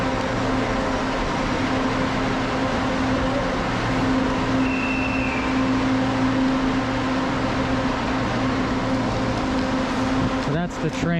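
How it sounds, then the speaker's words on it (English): Manila commuter train running: a steady, loud rumbling drone with a constant hum and faint high whine, heard from inside the car with no talk, ending in a brief clatter. "That's the train."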